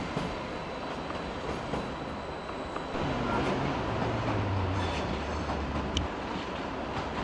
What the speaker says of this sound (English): There's the regional service to Passau on the German-Austrian border.